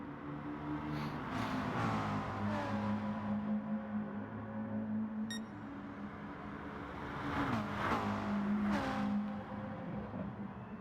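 Racing cars from a sim racing endurance championship lapping a track, engine drones rising and falling continuously as cars pass, with layered whining revs and gear-change swoops at moderate loudness.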